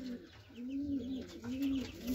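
A female pigeon cooing up close, three or four low rolling coos in a steady rhythm with short pauses between, clear over quiet background noise.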